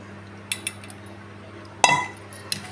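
A spoon clinks against a bowl while yogurt is mixed into a chutney: a couple of light taps, then one louder ringing clink and a final tap, close up in a quiet kitchen.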